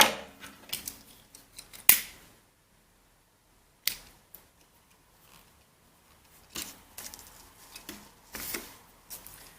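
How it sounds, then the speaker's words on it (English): Scissors trim excess macrame bracelet cord on a two-tone pony bead bracelet, giving a few sharp, close snips separated by quiet pauses, with soft handling rustles between cuts. "And then I want to trim and seal the excess."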